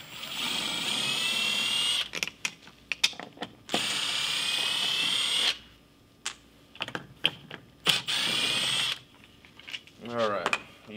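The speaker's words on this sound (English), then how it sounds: "So I'll grab my impact and go ahead and pull these out." A cordless impact driver backs Phillips screws out of a 2004-2005 Dodge Ram bottom cover, sounding as loud buzzing bursts of a few seconds each with rapid hammering clatter, separated by short pauses and handling clicks.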